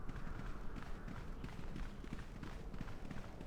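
Heavy footsteps in the video game KOTOR 2, a steady run of dense thudding steps over a continuous game background, fairly loud and unbroken throughout.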